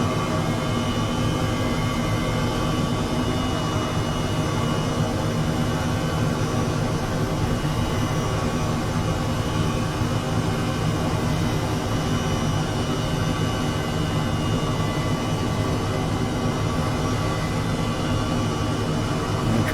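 An H135 helicopter hovers low in Microsoft Flight Simulator 2020, its turbine and rotor making a steady, unbroken broadband roar that stays even and loud throughout.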